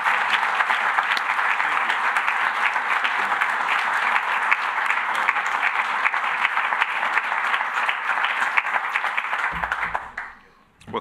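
Steady, dense applause from an audience at a law library naming ceremony, sustained for about ten seconds before tapering off abruptly, with a voice starting at the very end.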